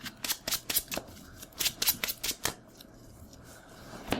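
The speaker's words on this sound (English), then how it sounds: "shuffling your sleeves feels different than shuffling my sleeves because of the way we shuffle" Sleeved Magic: The Gathering cards being shuffled: a quick run of about a dozen crisp riffling snaps close to the listener, then a brief pause and one more snap, with no talking.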